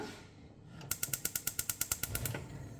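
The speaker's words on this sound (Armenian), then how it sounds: "միացնենք գազօջախը" A gas stove's igniter clicks rapidly about a dozen times in an even rhythm, close and crisp, before a low rush as the burner catches.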